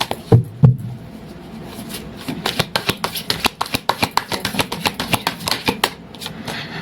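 Tarot cards being shuffled make a few loose thumps, then a fast run of crisp riffling flicks close by, rhythmic and sharp, with no speech over them.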